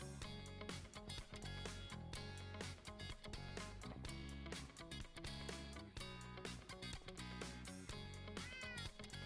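A cat meows in the video game Minecraft, with repeated meows over busy, loud in-game music.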